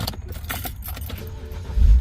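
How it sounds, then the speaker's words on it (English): A car key goes into the ignition of a 2007–2013 BMW X5 E70, making brief close metallic jangles and clicks. A low thump rises at the end. "So I'm gonna put the key in again"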